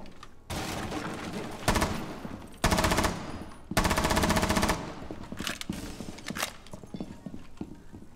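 Bursts of rapid automatic gunfire in the tactical shooter Rainbow Six Siege, several loud volleys separated by short gaps, with the game's background noise between them.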